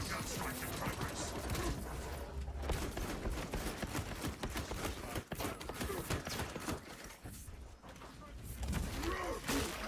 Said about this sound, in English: Iron Halo gun strike in progress.